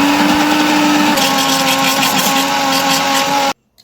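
A mixer grinder runs loudly and steadily while blending mango for juice, with a constant motor whine and churning. It stops abruptly near the end.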